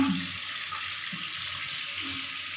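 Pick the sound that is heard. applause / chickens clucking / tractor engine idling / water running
water running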